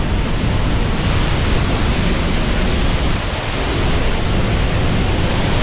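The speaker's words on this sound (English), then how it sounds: "So that's the waterfall." Niagara Falls roars as a dense, steady wash of rushing water, loud and unbroken throughout, with no voices over it.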